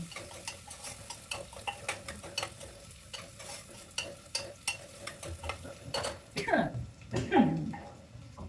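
Potatoes being sautéed in a pan, with repeated close clicks and scrapes of a spatula stirring over a soft sizzle, and a voice speaking briefly near the end.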